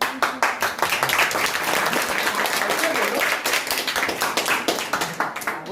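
A classroom group claps together during a Hindi grammar lesson on sandhi, a dense, steady patter of many hands that fills the whole stretch, with voices talking underneath.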